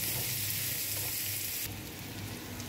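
Onions sizzle steadily in ghee in a pan while a Bengali prawn malai curry is cooked, a dense frying hiss close by with no talk, easing slightly partway through.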